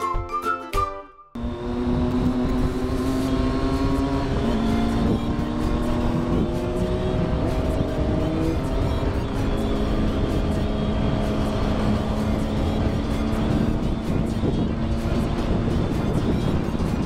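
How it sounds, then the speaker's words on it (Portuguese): A group of eleven Triumph Street Triple motorcycles rides on a winding road toward Campos do Jordão. After a brief quiet start, a loud, steady engine drone with gradually shifting pitch continues, close and unbroken. "Quanta moto! 11 Street Triples indo pra Campos, olha que beleza!"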